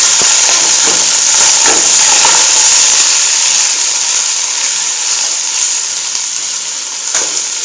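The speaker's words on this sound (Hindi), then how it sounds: "ऑयल हमारा गर्म हो चुका है, अब इसमें प्याज ऐड करेंगे।" Chopped onions frying in hot oil, a loud, bright, continuous sizzle with crackling pops that eases slightly over time, close up with no talking.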